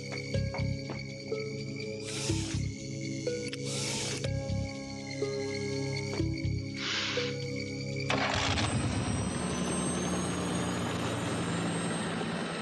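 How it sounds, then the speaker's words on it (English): An animated helicopter hums in flight, a low droning engine tone with layered harmonics under dramatic music and bursts of effects, its noise swelling into a broad rushing roar near the end. "The chopper is in position."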